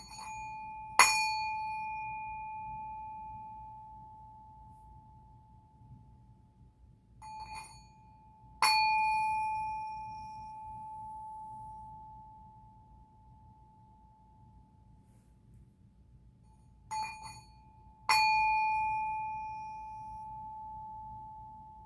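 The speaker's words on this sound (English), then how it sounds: "We're going to get the singing bowl." Metal singing bowl struck three times at a slow, even pace, each strike ringing out as a clear sustained tone that fades over several seconds, with faint low hum underneath and no talking.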